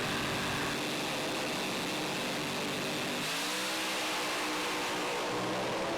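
Pro alcohol drag cars launch off the start line at an Australian drag strip, a sustained, distant engine roar that shifts in pitch partway through, heard alone without talk.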